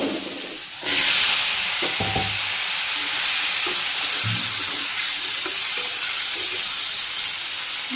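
Vegetables with cumin hit hot oil and burst into a loud, steady, hissing sizzle that holds for several seconds, with a few faint utensil knocks underneath.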